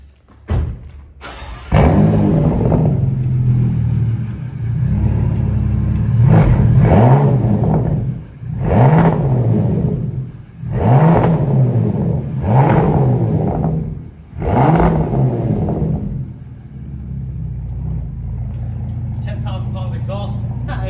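A 2017 Bentley Bentayga's 6.0-litre W12 engine revs repeatedly through an aftermarket exhaust in about six deep, throaty bursts, each swelling and falling back to a steady idle between.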